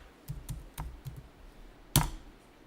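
A handful of soft keystrokes tap on a computer keyboard in a quiet room during accounting software data entry, followed by one sharper, louder key press.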